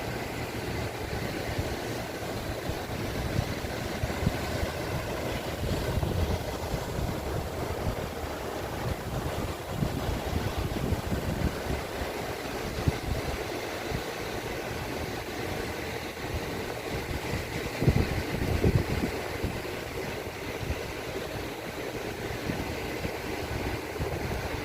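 Red Sea waves wash near the floating mosque in Jeddah, heard as a continuous broad rush of surf under heavy wind buffeting on the microphone, steady throughout with no talking.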